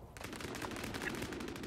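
Dual pistols firing in a Vampire: The Masquerade team deathmatch game, a rapid burst of repeated gunshots heard up close and loud for under two seconds.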